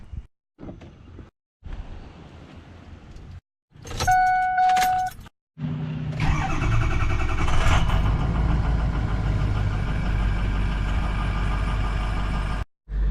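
Keys jangle and a door shuts, then a stock 6.0 Powerstroke diesel engine in a King Ranch truck cranks and fires up, settling into a loud, steady diesel rumble.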